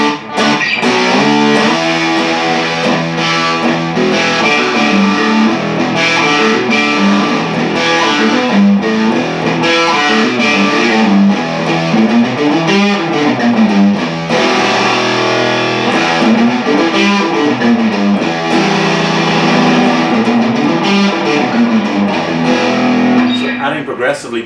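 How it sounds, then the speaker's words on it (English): Electric guitar played through an EarthQuaker Devices Sea Machine chorus pedal with the dimension control raised for added echo, giving a dense, steady wash of warbling chorused notes with trailing repeats throughout, loud and continuous with no talking. "I'm going to bring the dimension up just to add a bit more kind of echo on top of that."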